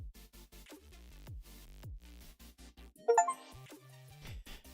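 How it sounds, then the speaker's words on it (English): A short bright Steam notification chime rings out clearly, a cluster of clinking tones rising above busy game music and sound effects from a Football Manager 14 session. "You wouldn't have seen the Steam notification, but that is the noise you just heard."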